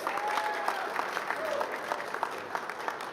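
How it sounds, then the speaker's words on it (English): An audience at the US-Africa Summit opening reception applauds in a sustained, dense wash of clapping with scattered sharper claps. Some voices are heard underneath. "So please give Travis a big round of applause."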